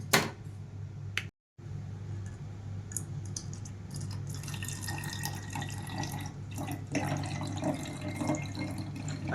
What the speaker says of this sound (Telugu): ఈ వాటర్ అంతా చల్లారిన తర్వాత బాటిల్లోకి ట్రాన్స్ఫర్ చేసుకోవాలి